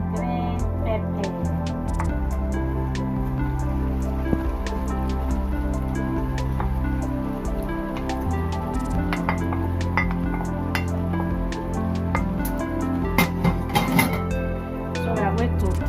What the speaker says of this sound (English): now we are going to be adding our red pepper and green pepper